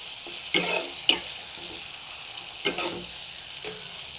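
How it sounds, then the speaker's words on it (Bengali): Masala of cumin, ginger, green chili paste, turmeric and Kashmiri red chili sautéed in oil for a paneer dish, a steady sizzle broken by several scraping stirs. "জিরে আছে আদা আছে আর কাঁচা লঙ্কা বাটা আছে হলুদ আছে আর কাশ্মীরি লাল লঙ্কা দিয়েছি দিয়ে ভালো করে কষিয়ে নেবো মশলাটাকে"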